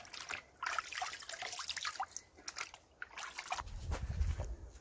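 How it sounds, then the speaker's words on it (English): Water trickles and sloshes faintly as extra dye is rinsed out of a tie-dye shirt, with irregular splashes and dribbles and a fuller gush of running water near the end. "now we are going to wash the extra dye"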